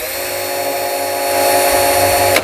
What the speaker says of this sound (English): Pause for drill noise.